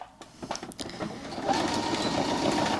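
A sewing machine stitches a seam allowance to a facing on elasticated wide-legged pants, a few faint taps and handling noises first, then a steady close mechanical whir.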